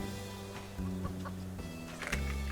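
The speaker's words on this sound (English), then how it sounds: "Oh, chicken!" A chicken clucking in the survival game Subsistence, several short clucks over a low steady game drone, moderately close, no talk over it.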